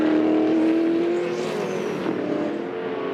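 SEW Euro Drive Holden Commodore Supercar racing at Winton Raceway, its loud engine roaring steadily as it passes near, pitch rising and then easing away.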